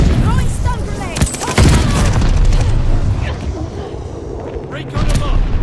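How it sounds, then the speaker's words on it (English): A stun grenade goes off in Call of Duty Vanguard's Patrol mode on the Dome map on Xbox Series X: loud broadband blasts and crackling gunfire, with a voice talking over the din. "Throwing stun grenade."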